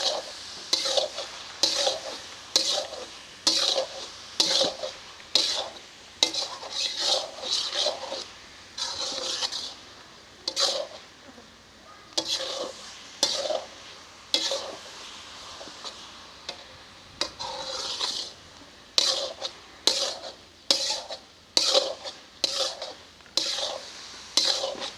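A spoon stirs boli milk halwa in a pan over the stove, scraping rhythmically in quick repeated strokes with a faint sizzle underneath.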